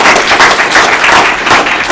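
Audience applause at a soft signage and interior décor presentation, a loud, dense burst of steady clapping from a room full of people, close and continuous.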